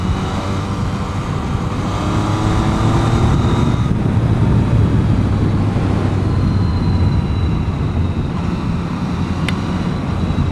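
A 2014 Yamaha FZ-09/MT-09 motorcycle ridden on the road near Clearlake, California, giving a steady, continuous engine drone buried in heavy, roaring wind rush throughout, with no voices.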